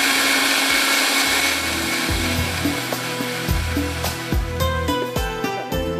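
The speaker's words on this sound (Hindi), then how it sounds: "हमने प्याज डाल दिया है ब्लेंडर के अंदर। इसको थोड़ा सा पीस लेते हैं" An electric kitchen blender grinds onions, a loud close whirring motor that pulses in short bursts, dipping and restarting several times with shifting pitch, alone without talk.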